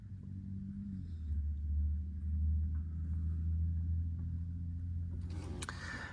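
A BMW i8 on a test drive, giving a steady low engine and road rumble that swells slightly in the middle, with a brief burst of brighter noise near the end; no talking.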